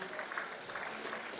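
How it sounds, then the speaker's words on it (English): Brief, dense applause from an audience honouring the Premier at a Grade 12 National Senior Certificate exam results release, a steady close patter of many clapping hands. "give the Honorable Premier a very big round of applause"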